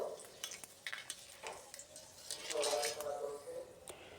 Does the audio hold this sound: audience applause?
no